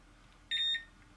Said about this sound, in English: when it charges up, it, the beep goes